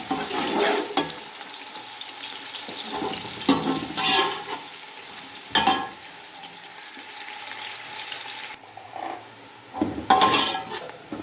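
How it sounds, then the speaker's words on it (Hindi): Onions dropped into hot cooking oil, bursts of frying crackle mixed with clanks and scrapes of a pan and utensil, uneven and close, with quieter stretches between. "अब हम प्याज डालेंगे। प्याज को हमने अच्छी तरह फ्राई करना है।"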